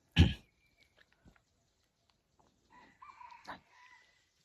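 A chicken at a forest hunting shelter gives one loud sharp call near the start, then a quieter drawn-out crowing phrase later, with scattered faint clucks and near silence between.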